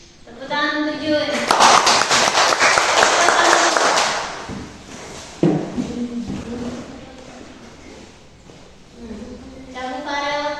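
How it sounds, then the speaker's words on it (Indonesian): Children in a classroom break into a sustained round of hand clapping lasting a couple of seconds, close and fairly loud, with a teacher speaking before and after the applause. "Tepuk tangan untuk Neymar."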